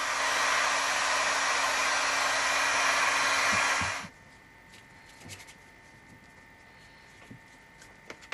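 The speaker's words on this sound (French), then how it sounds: "Pour l'assouplir, j'utilise un décapeur thermique." Heat gun softening modelling clay for a celluloid doll repair, a loud steady blowing roar for about four seconds that cuts off abruptly, followed by faint handling clicks and taps.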